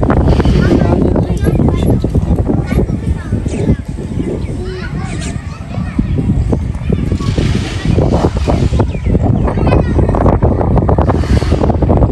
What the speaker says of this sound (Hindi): हवा की आवाज़ खुद बहुत ज़्यादा है